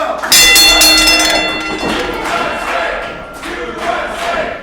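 A wrestling crowd cheers loudly behind a patriotic American wrestler in a one-on-one match, a dense roar of voices and chants that swells at the start and keeps going with a commentator talking over it.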